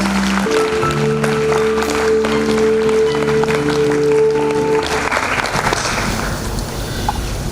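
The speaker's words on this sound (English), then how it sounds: "Audience, with a big round of applause." Audience applause at a homoeopathic medical college graduation ceremony, a loud, steady crowd clapping throughout while a sustained musical tone plays underneath and then fades.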